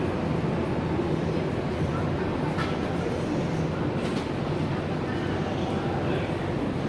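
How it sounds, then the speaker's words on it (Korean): A Nankai Line airport express train rumbles at a station near Kansai Airport, a steady loud rolling roar with a few clanks throughout. "저쪽 옆에 공항 급행 일반 전철이 있네요."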